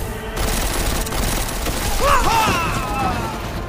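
Dense rapid gunfire rattles in a Deus Ex: Mankind Divided firefight, a loud continuous fusillade with a brief shout-like tone partway through.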